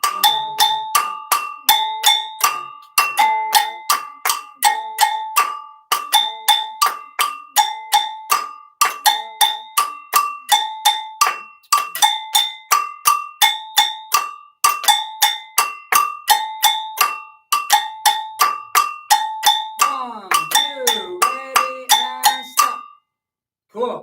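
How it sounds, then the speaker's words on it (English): Go-go bells struck in a steady repeating high-high-low-low pattern, bright metallic clanks ringing close and clear for many cycles before a brief pause at the end. "So those are the go-go bells"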